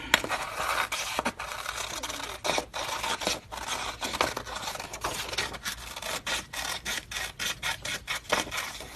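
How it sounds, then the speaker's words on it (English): Scissors cutting paper close up, a dense run of repeated snipping and scraping strokes in an uneven rhythm, loud and continuous with no talk. "Just do that with a scissor."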